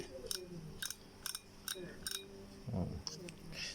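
A Shimano Mig Z1000 fishing reel, just reassembled, gives a series of sharp, evenly spaced clicks, close and fairly quiet, with a few softer handling rattles in between.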